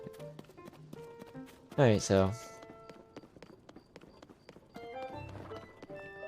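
In Zelda: Tears of the Kingdom, horse hooves clip-clop in a light, rhythmic beat under sparse game sound effects. Someone speaks briefly partway through.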